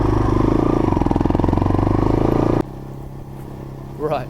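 A Skyteam V Retro motorcycle pulls away under the rider, its engine throbbing in a fast, pulsing rhythm for a couple of seconds before cutting to quieter wind and road noise with a brief rising whine near the end.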